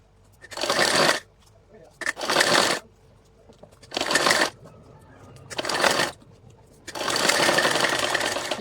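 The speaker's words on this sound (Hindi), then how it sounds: "अब मैं सिलाई लगा के दिखाती हूँ एक पैर की कैसे लगेगी।" A sewing machine stitches a salwar leg in five separate bursts of rapid, loud clattering, each lasting about a second. Quiet pauses fall between the bursts, and the last run is the longest.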